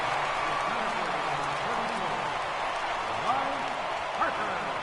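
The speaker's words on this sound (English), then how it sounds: "listen to this crowd as they greet their hero" A stadium crowd in MLB The Show 18 roars steadily during a simulated NLCS Game 2 between the Brooklyn Dodgers and the Expos, greeting Bryce Harper with a dense, continuous swell of cheering and scattered whistles.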